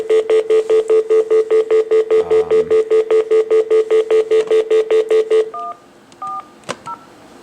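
A rapid run of loud telephone keypad tones, about twenty short beeps in steady rhythm, followed by a few fainter line tones and a click.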